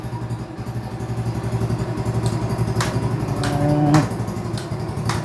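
A motorcycle engine runs steadily at close range, a continuous throbbing idle with a slight rise in revs near the end and a few light clicks, with no talk.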